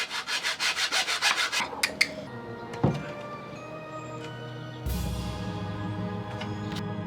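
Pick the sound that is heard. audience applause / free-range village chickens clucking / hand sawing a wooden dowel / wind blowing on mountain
hand sawing a wooden dowel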